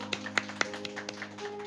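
Scattered claps and taps from an audience greeting a musician on stage: sparse, uneven hand claps over about two seconds, fairly faint, with a steady low hum underneath.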